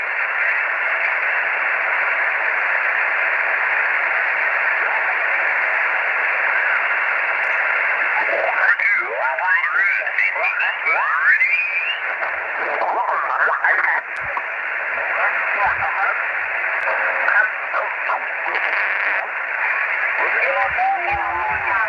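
A ham radio in a QRP setup is tuned to 14,318, giving steady band hiss and static. A faint, distorted distant DX voice drifts in and out, with warbling tuning sweeps partway through.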